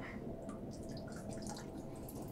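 Filtered reef-tank water from a clean water reservoir trickling and dripping into a cup, a faint steady splashing with low background hum.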